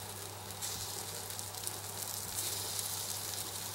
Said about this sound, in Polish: smażę je na złoty kolor, na dwie strony